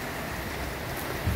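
Rain falling at midnight on Janmashtami, heard as a steady, even wash of noise with no voices.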